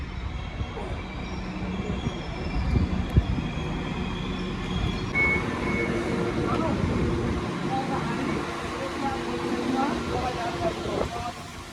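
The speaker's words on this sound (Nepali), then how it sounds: "फाइनली हाम्रो ट्रेन पनि आइपुग्यो योर्क" A train pulls into York station with a steady rumble of wheels and carriages, faint squeals and a warning tone over a continuous station hum, while people talk nearby.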